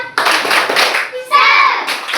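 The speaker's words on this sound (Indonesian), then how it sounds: "Ayo kita tepuk semangat dulu." Schoolchildren do a spirit clap, slapping hands together in a quick burst, then a group of young voices shouts out in unison. The sound is close and loud, with the claps first and the chanted shout taking over near the end.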